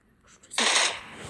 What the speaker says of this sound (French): Arrête de tirer en rafale.